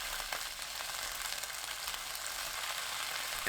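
Bean sprouts sprinkled with mirin fry in a pan over high heat, giving a steady close hiss and sizzle that stays even throughout with no talking.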